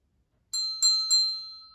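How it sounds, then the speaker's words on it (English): A small bell rung three times in quick succession, each clear metallic ding overlapping the last and ringing out into silence. "when you hear this bell."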